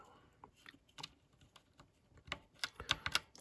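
Quiet typing on a Redragon mechanical keyboard with red switches, a close run of soft, irregular key clicks that grow sharper and busier toward the end.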